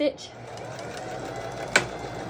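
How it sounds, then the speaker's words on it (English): A sewing machine stitches ribbon ruffle onto a sock, humming steadily up close with a sharp click partway through, while a person talks over it. "First, you're gonna start off stitching a little bit, and then make sure you back stitch"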